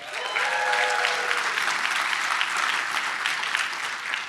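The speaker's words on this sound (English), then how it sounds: "give her a round of applause" Dense, steady round of audience applause at a political gathering, loud and continuous throughout with a brief whistle-like tone early on.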